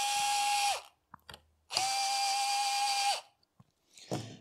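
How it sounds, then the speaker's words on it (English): A power screwdriver whirs steadily on the screws of a Taipan Veteran II air rifle, two sustained bursts with a faint click between them and a short clatter at the end, close and clear. "so we must unscrew these four screws. Just a little bit unscrew."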